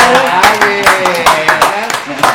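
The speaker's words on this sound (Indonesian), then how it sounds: "Tepuk tangan lagi deh." Audience clapping at an Indonesian talk show taping, a dense run of hand claps spread over a few seconds. Voices and some tonal music sit under the claps throughout.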